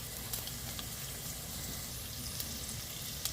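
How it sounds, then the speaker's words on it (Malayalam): Chopped onion, ginger and green chilli sauté in hot oil, giving off a steady, even sizzle broken by occasional soft crackles and pops, close by, with no voices. "അരിഞ്ഞിട്ട് സവോളയും ഇഞ്ചിയും പച്ചമുളകും കൂടി ചേർക്കാവേ. ഒന്നങ്ങ് വഴറ്റാം."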